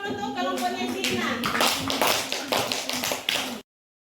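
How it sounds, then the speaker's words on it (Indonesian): Students in a classroom clap for a group, a burst of uneven, close handclaps building and then cutting off abruptly, with a voice faintly at the start. "Beri aplaus dulu untuk kelompoknya Cina."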